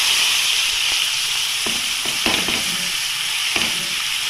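Cooked chana dal stirred into hot Dalda with cardamom paste: a steady sizzling hiss with soft scraping stirs now and then, close and continuous with no talk.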